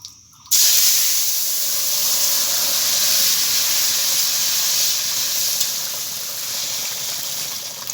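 Brinjal pieces go into a hot pan of oil with bay leaf for a rohu fish and eggplant curry, setting off a sudden, loud, steady sizzle that starts about half a second in and hisses on without pause.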